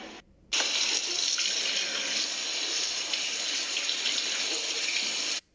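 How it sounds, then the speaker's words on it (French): Tap water runs steadily into a sink while strawberries and raspberries are rinsed under it, a close, continuous splashing gush that starts after a brief quiet moment and stops abruptly at the end. "On va rincer maintenant les petites fraises et les framboises."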